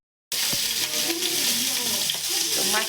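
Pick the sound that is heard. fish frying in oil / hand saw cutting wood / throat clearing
fish frying in oil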